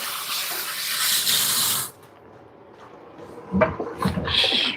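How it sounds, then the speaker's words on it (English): A kitchen tap runs hard and steady while hands are washed beneath it, then shuts off abruptly, leaving quiet room tone and a few soft clatters and splashes nearby. "let me wash my hands"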